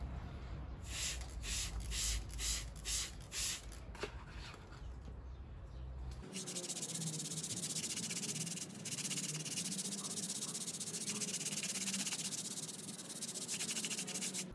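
A soft-bristle brush scrubs a car floor mat with steady, close, continuous rubbing strokes, preceded by a few rhythmic swishing passes.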